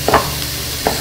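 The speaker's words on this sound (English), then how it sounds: "let that saute for a bit. While this is sauteing" Ingredients sauteing in a pan for Armenian pasuts tolma, a soft steady sizzle with two brief stirring scrapes, close and alone.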